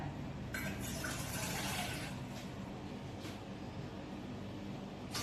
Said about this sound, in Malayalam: നമുക്ക് ഒന്നര ഗ്ലാസ് വെള്ളം ഒഴിച്ചു കൊടുക്കാം